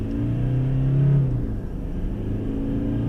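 A 2017 Toyota Hilux pickup with a 2.4 D-4D diesel accelerates hard, its engine note droning and rising briefly before settling into a steady rumbling growl, heard from inside the cab.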